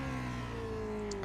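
The Cosworth V8 of a Lotus 49 in the iRacing game holds a steady, buzzy drone with a slowly falling pitch, loud and continuous for just over a second with no talk.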